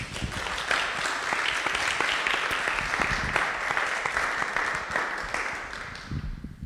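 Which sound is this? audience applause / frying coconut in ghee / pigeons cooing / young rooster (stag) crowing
audience applause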